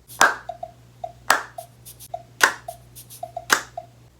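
Sampled claps in an indie dance track land as four sharp, crisp hits spaced about a second apart, with softer ticking percussion between them at a moderate level.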